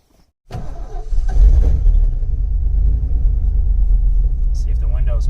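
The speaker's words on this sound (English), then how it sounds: "We're just going to go ahead and take this Ford for a test drive." A Ford car starts up and drives off with a loud, close engine rumble that settles into a steady cabin drone, and faint high chirps come near the end.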